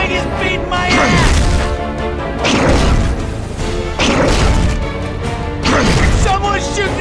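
A Charger zombie attacking in Left 4 Dead 2: repeated heavy smashing blows with whooshes and thuds in bursts, loud and close, with game effects layered over them.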